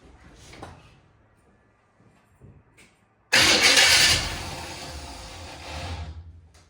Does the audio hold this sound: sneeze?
no